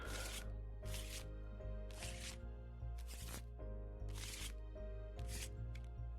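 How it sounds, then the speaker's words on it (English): A hand of cards is shuffled in Tabletop Simulator's virtual card game, bursts of quick riffling repeated about six times in a steady rhythm over a constant background music bed. "You can shuffle your hand"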